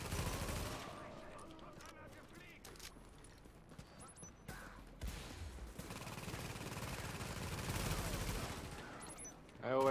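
Video game gunfire crackles in scattered bursts and short volleys amid rumbling game sounds. Excited talk breaks in between the shots.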